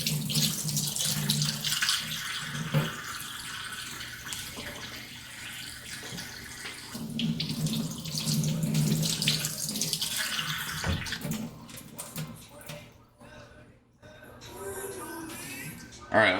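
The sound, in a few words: water running while washing leeks in sink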